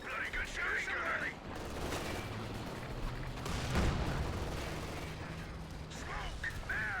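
Distant gunfire and battle noise in Company of Heroes 2, a steady low rumble of shots and explosions, with game voices calling out at the start and end.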